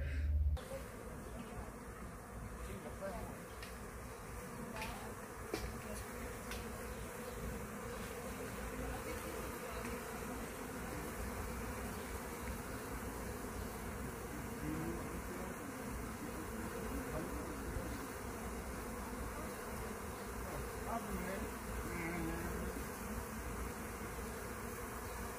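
Steady, dense buzzing of many bees inside a hive, close and continuous throughout with no talking.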